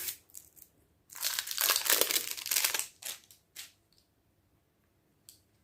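Makeup Revolution Power Fix primer packaging being opened, with crinkling, tearing plastic and paper rustles in close bursts, a long loud stretch in the middle, then quiet.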